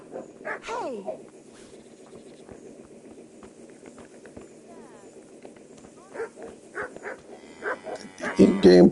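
A puppy barks a few times in the Kingdom Come video game, brief sharp yelps near the start and end over quiet ambient game sound, while someone talks over it.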